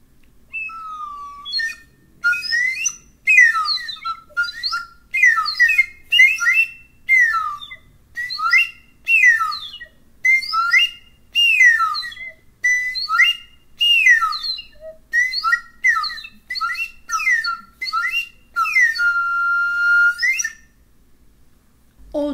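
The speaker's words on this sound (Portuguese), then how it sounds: "Este aqui também é um apito. Ele é um pouquinho diferente daqueles outros que nós conhecemos" A shrill flute-like indigenous whistle is blown in a long series of short, repeated bursts with brief pauses between, close and clear, with no talking.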